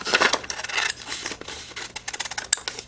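Paper being cut down for a junk journal pocket, a quick run of crisp snips and rustling scrapes in uneven bursts, close and fairly loud, with no talking.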